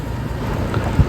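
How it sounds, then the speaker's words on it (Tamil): Steady drizzle near Muttam Beach by JPR Harbour in Kanyakumari makes a loud, constant broadband hiss mixed with gusty wind buffeting the microphone, with no pauses. "மழை தூரிக்கிட்டே தான் இருக்கும்"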